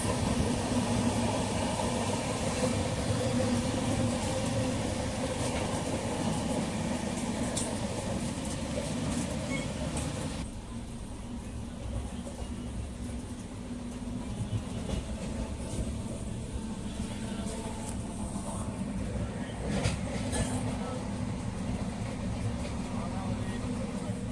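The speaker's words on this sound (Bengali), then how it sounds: "আর এই মুহূর্তে কিন্তু রাত্রেবেলা আমাদের বালেশ্বর জংশন থেকে ছেড়ে দিল ট্রেন" Purushottam Express train running at night after leaving Balasore Junction, heard from inside the coach as a continuous loud rumble and rattle of wheels on track, steady throughout with a slight dip midway.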